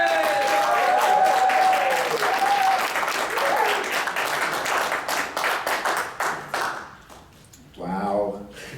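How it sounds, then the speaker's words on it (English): An audience at a talk breaks into applause, dense clapping that stays strong for several seconds, thins into scattered claps and fades, with a voice emerging at the end. "please give a loud ringing applause for Joe Bongiovanni."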